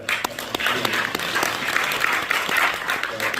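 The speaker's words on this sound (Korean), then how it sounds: "우리 박수로" Audience applause fills a church prayer gathering hall, a steady dense patter of many hands sustained throughout with no talk over it.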